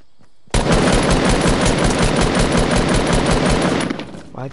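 Fortnite gunfire hammers out as a sustained, loud burst of rapid automatic shots, cutting in abruptly after a brief quiet moment and running for several seconds before tapering off.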